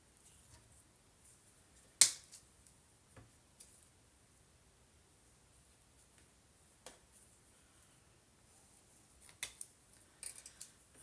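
Tim Holtz scissors snip through craft flower stems in a quiet crafting space, giving a few sharp, isolated clicks and snaps separated by near silence, the loudest near the start and a quick cluster at the end.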